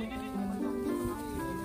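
Goats, Anglo Nubian or Boer, bleating on a farm amid other animal calls, with a voice imitating them and speech mixed in throughout.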